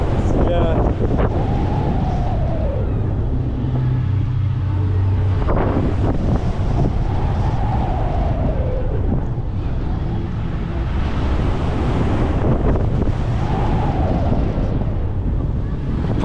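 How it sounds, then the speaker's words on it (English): Strong gusts buffet the microphone on a theme park ride, a loud continuous roar with rushing swells throughout, and faint voices partly buried beneath it. "Proper windy, innit?"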